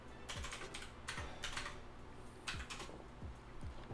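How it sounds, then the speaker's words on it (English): Keys clatter on a computer keyboard as a command is typed, in quick short bursts with brief pauses, close and fairly quiet, with no voices. "type this in again"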